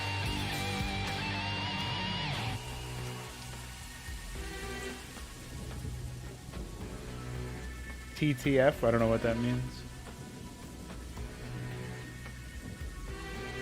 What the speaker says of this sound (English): You must be talking about the rain in the background